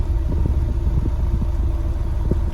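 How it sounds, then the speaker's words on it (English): A 2016 Ford Mustang convertible with a 2.3L four-cylinder idles with a low, steady exhaust rumble and soft irregular pulses, heard close with no talking. "We'll have a little listen at the exhaust"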